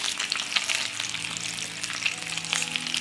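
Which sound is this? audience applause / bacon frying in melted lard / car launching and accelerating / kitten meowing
bacon frying in melted lard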